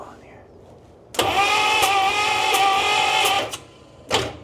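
A 1950 Cadillac engine, left sitting for 42 years, cranks over with a steady whirring, buzzing drone for a couple of seconds, stops, then gives a brief second burst of cranking.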